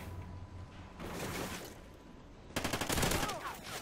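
Rapid video-game gunfire rattles out in short automatic bursts, quieter at first and then a louder, denser volley near the end, set against muffled background sound.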